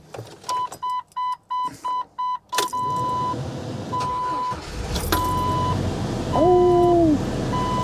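A cheap Jeep Wrangler bought through Facebook gives a run of electronic warning chimes before its engine cranks and catches. A rumbling idle then swells louder near the end, with a brief rising tone over it.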